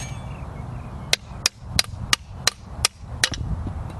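About nine sharp metallic hammer blows knock out a part, ringing out at a steady pace, loud and close, over a low background hum.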